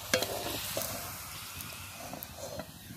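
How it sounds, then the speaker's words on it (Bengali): Flour khaja pastries frying in oil until brown, a soft continuous sizzle with light bubbling and a few spatter pops, close and moderately quiet, with no talking. "এটাকে উল্টে পাল্টে এই যে ব্রাউন কালার করে ভেজে নিচ্ছি"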